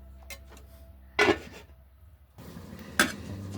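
A lid clanks onto a cooking pot of dhaniya chicken in two close metallic knocks a couple of seconds apart, with quieter scraping and shuffling between them.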